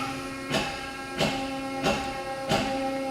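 A waterjet cutter's high-pressure pump starting: a steady mechanical hum with tonal whine, punctuated by four evenly spaced hissing pulses.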